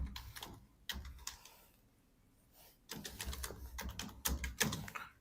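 Typing on a laptop keyboard comes in clattering bursts of quick, close key taps, pausing for about two seconds in the middle before resuming faster.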